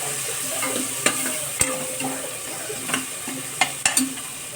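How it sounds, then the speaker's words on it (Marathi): Rice and turmeric are sautéed in a pan under a soft, steady sizzle, punctuated by about half a dozen sharp spatula scrapes and clinks against the metal. "हळद थोडंसं आपण याला परतून घेऊया"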